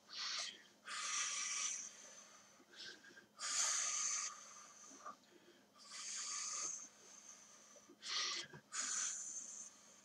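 Several people breathing out forcefully during a judo taiso warm-up, a series of breathy exhalation bursts of varying length with short pauses between, fairly close over a quiet room hum.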